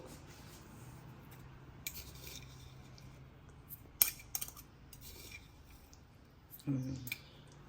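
A spoon stirs salt into ragi porridge (ragi java) in a pot, giving faint, sparse clinks and scrapes, with a sharper clatter near the end over a quiet room.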